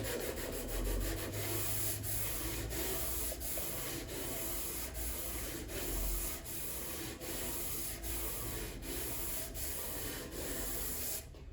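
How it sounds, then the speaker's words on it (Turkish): 60-grit sandpaper rasps against the wood of a saz in steady, regular back-and-forth strokes, close and continuous with no talking. "60 numara zımparayla ben kabasanı zımparalıyorum."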